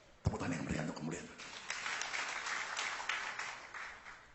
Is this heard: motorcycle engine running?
no